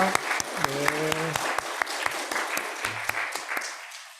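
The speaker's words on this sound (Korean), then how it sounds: "우리 잠깐 일어나실 때 박수로 환영하겠습니다." A church congregation at a Sunday worship service applauds to welcome a visitor, with dense, steady clapping sustained for several seconds while a few voices speak over it.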